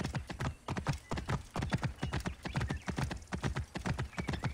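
A horse gallops and jumps in Assassin's Creed Origins, with rapid, rhythmic hoofbeats pounding close and loud throughout, steady and unbroken, with no talk over them.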